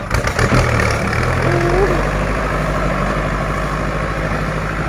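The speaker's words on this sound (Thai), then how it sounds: "เสียงสะใจมากครับ นี่รถไถ" A loud Kubota L5018 tractor diesel engine with a loud exhaust pipe idles with a deep, steady chugging rumble and a rough exhaust note; a voice briefly speaks over it.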